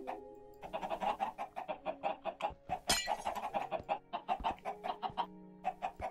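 Minecraft chickens cluck in a rapid, continuous stream of short clucks, close and moderately loud, with a brief higher squawk partway through.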